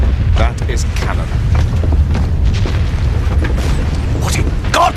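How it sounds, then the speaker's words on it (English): French artillery cannon fire booms as deep rumbling blasts that roll continuously through the clip, loud and heavy, with occasional sharper bursts and faint mechanical sounds but no clear talking. "That is cannon."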